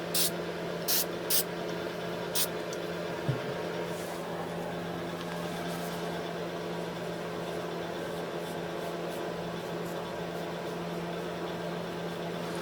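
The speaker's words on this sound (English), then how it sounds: "So should we spray the gasket? I'll just lightly spray the head." Gasket spray hisses onto the head of a 1983 Yamaha YZ80 engine in a few short, light bursts near the start, followed by a steady low background hum in a quiet workshop.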